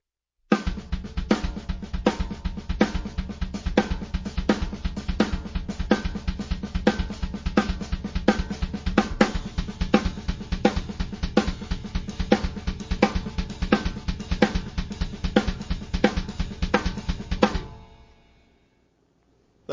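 A drum kit plays a steady exercise with the kick drum played apart from the hands, a dense, even run of strikes for about seventeen seconds, then a cymbal ring that decays away.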